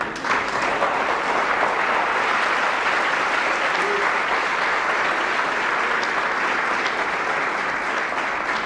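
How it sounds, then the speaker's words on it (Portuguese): Church congregation applauding together, a dense, sustained wall of clapping from many hands, loud and even throughout with no talk over it. "Você pode aplaudir Jesus por isso?"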